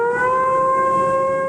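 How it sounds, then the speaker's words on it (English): Tsunami warning sirens blare across Japan, a steady loud civil-defense tone holding several pitches without a break, sustained and unwavering. "In Japan, the unmistakable sound of tsunami sirens started to blare"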